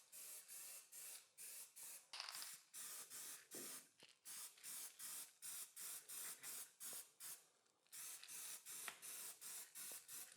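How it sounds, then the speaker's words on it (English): Black spray paint hisses from an aerosol can in a long series of short, evenly spaced bursts, loud and close, with brief pauses between passes and no talking. "apply a couple of coats of black spray paint."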